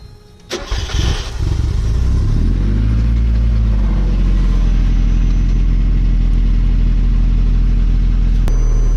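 A 1990–97 Mazda Miata with a newly installed fuel pump cranks briefly, catches and fires up, then settles into a loud, steady idle that runs close by for several seconds.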